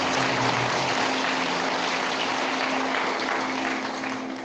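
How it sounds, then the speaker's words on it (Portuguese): A church congregation applauds together, a dense, steady wash of clapping filling the room that holds evenly and begins to thin toward the end. "Vamos aplaudir poderosamente a palavra do Senhor."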